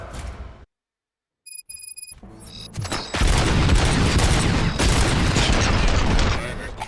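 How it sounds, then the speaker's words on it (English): Gunfire in RoboCop: Rogue City, a dense, loud burst of shots and booms erupting after a brief silence and continuing steadily to the end. "Gunshots? What's going on?"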